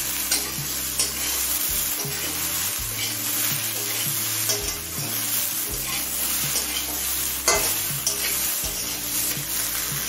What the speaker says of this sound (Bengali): এখন ভেন্ডি আর পেঁয়াজ একসাথে কিছুক্ষণ ভেজে নেব।